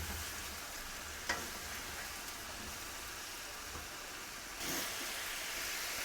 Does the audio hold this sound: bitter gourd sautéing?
yes